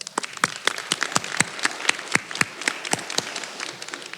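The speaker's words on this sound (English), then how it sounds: "Can we all just give them a round of applause?" Audience applause at the Copper Mountain College 2024 adult education graduation ceremony: scattered, crisp individual claps from a modest crowd, close and fairly sparse, with a brief murmur of voices.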